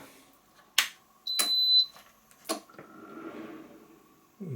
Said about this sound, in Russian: Пикнуло, и вентиляторы сработали на короткое время.